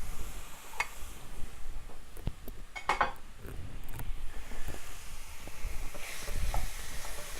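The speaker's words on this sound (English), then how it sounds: "Just want to stir it around, get these onions in. Medium heat." Ground beef and onions sizzle steadily in a frying pan over medium heat, with scattered scraping clicks from stirring and a constant hiss throughout.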